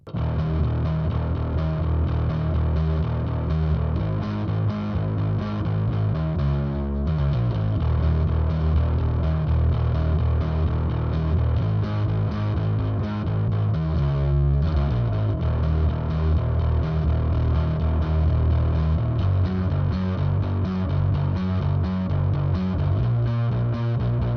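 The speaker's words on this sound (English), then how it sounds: "you'll hear more mid-range frequencies running into the distortion as the knob turns counterclockwise" Heavily distorted electric guitar plays continuously through an XO variable crossover pedal, its tone gradually shifting as the crossover knob sweeps, bringing more mid-range into the distortion.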